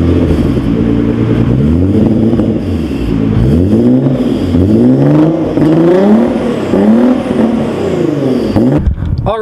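A supercar's engine idles and revs while warming up, with repeated rising and falling revs close by, loud and steady throughout with no talk.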